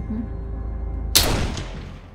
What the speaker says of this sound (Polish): Rewolwer, huk rewolweru.